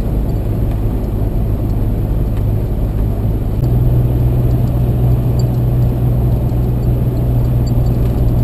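A car driving on a rural Oregon road, heard from inside as a loud, steady engine and tire rumble that thickens slightly partway through, with no speech.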